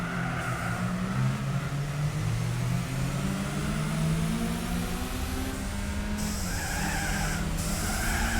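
Volkswagen Lupo on nitrous in Gran Turismo 4, engine droning steadily with shifting pitch as tires skid and squeal throughout, loud and continuous with no talk.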